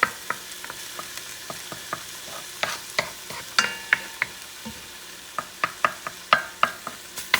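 A spoon stirs frying ingredients for Puerto Rican beef stew over medium heat, with soft sizzling and many light clicks and scrapes against the pot that grow louder and closer together toward the end.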